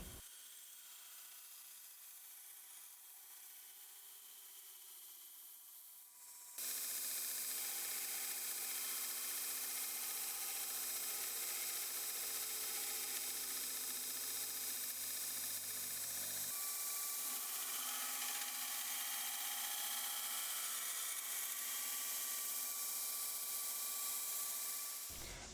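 Steel spine of a forged Bowie knife dragged across the platen of a belt grinder: a steady, loud abrasive grinding roar kicks in after a quieter stretch and runs continuously to the end, with no talking.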